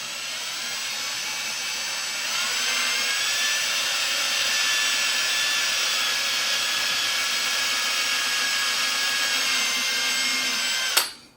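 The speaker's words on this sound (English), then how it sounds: "Drill the next hole" An electric drill bores a hole through a leather cowboy boot, its motor whining steadily and loudly up close for about eleven seconds before cutting off abruptly, with nobody speaking.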